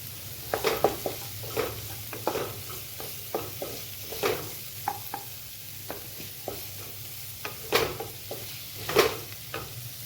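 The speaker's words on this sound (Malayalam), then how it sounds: "ഇതൊന്ന് വഴന്ന് വരട്ടെ കേട്ടോ" Onion and vegetables sautéing in a pan for pumpkin soup, a quiet steady sizzle broken by repeated scrapes and taps of a spoon stirring against the pan, with no voices.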